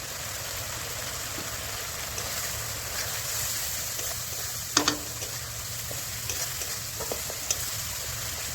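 Spices being sautéed and stir-fried in a pan give a steady, close sizzle with faint scraping stirs and a couple of sharper clinks near the middle.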